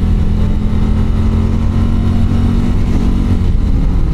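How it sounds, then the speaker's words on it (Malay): A Harley-Davidson Street Glide motorcycle's exhaust roars loud and close in a sustained, heavy rumble as the engine is revved under way, holding a dense low-pitched growl for the whole moment. "Wah, toki dia kuat weh."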